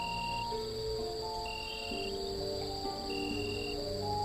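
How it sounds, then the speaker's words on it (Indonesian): Crickets chirp steadily at night near a school, a dense, continuous high trill with repeating shorter pulses layered over a low background hum. "Gelap gulita, diiringi dengan suara jangkrik dan suara ranting-ranting pohon di sekolah"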